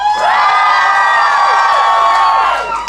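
A crowd at the Plymouth Pride main stage in Central Park cheers loudly and continuously for about three seconds, with whoops and high shouts layered through the sustained roar before it eases slightly at the end.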